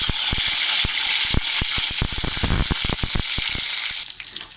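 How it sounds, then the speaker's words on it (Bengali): Raw tomatoes hit hot oil tempered with cumin seeds, giving a loud, steady sizzle with sharp spitting pops scattered throughout, the frying hiss dropping slightly near the end. "তো তেলটা গরম হয়ে গেছে, দেখো কাঁচা টমাটোগুলো আমি তেলে দিয়ে দেবো।"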